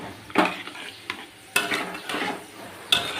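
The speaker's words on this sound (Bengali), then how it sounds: "সব কিছু নেড়ে একবার ভালো করে মিশিয়ে দিচ্ছি।" A spoon stirs gathi kochu curry masala in a pan with water just added, giving a few sharp scraping and clinking strokes against the metal amid a soft sizzle.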